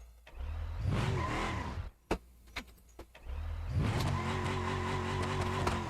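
Heavy car in BeamNG.drive, its engine droning and revving loudly for a few seconds, then dropping out amid sharp clicks and knocks before the engine roars back up with a steady sustained tone.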